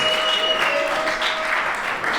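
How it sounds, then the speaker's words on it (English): A wedding reception crowd applauds the matron of honor, steady dense clapping at moderate volume that holds evenly throughout, with a faint tonal hum underneath. "how about a big round of applause for your matron of honor, Brianne"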